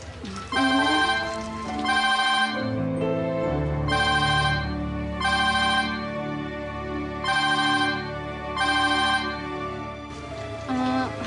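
A phone ringtone plays a looping melodic tune in repeated bursts, loud and close, with no one talking over it.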